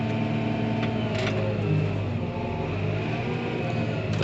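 Farm tractor engine straining steadily at high load as it climbs a packed corn silage bunk in diff lock, a continuous loud mid-pitched drone with harmonic rumble and no pauses.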